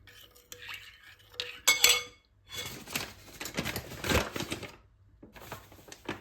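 A spoon clinks and scrapes around a bowl in quick, uneven strokes, stirring yeast and sugar, close by, with short pauses between bursts of stirring.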